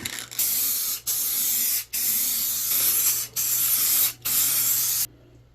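A rattle can of spray paint hisses in five long, loud bursts with short gaps between them as a car hood is painted on a Fiero GT, the last burst ending in near silence.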